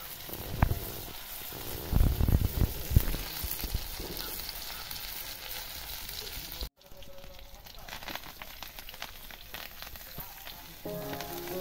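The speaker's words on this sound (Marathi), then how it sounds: "या भाजीसाठी फक्त आपण लसूण आणि मिरची ठेचून घेतलेली आहे। तर ते आता आपण तेल घातले, फोडणीला घालूया।" Crushed garlic and green chili hit hot oil for tempering, giving sharp sizzling bursts early that settle into a quieter, steady fry, with a brief cut partway through.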